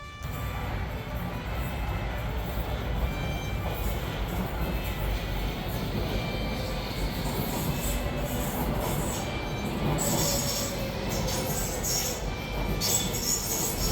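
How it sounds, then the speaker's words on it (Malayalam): A London train pulls into a station platform, its steady rolling rumble and faint high wheel squeal going on throughout at moderate distance, with no speech. "അങ്ങനെ നമ്മുടെ ട്രെയിൻ വന്നു ഗൈസ്"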